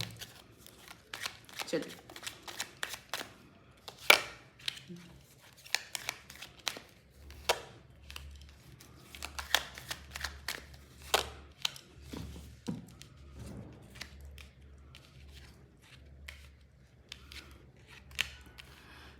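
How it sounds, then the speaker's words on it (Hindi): Tarot cards being shuffled by hand in a series of crisp, close riffles and taps with uneven pauses between them, mostly alone but with a brief spoken word at one point. "लियो के लिए हम शफल कर लेते हैं"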